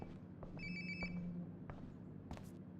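A phone rings in the video game Life is Strange: Before the Storm, two short electronic trills over faint background ambience and scattered clicks.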